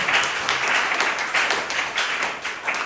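A church congregation claps together in praise, a loud, rhythmic beat of many hands pulsing in regular bursts a few times per second throughout.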